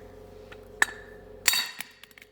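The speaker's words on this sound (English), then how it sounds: "So we're going to use our big hammer." Big hammer striking an office chair gas lift cylinder during a Haworth Zody chair gas lift change, giving two sharp metallic clanks with ringing tails about a second apart, then a few lighter knocks.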